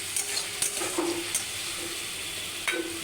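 Spice masala with sugar being stirred in a pan, a soft steady sizzle with a few sharp scrapes and clicks of the spoon against the pan, fairly quiet and without talk.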